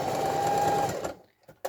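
A sewing machine runs in a steady, fast whirring stitch through fabric while overlapping a letterbox pocket, then stops abruptly, leaving a few faint clicks and a short handling noise at the end.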